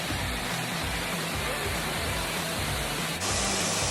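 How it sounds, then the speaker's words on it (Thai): Waterfall at Pha Nam Yod, a constant broad rush of falling water that fills the whole stretch and grows slightly louder near the end, with no talking. "น้ำตกถึงแล้ว"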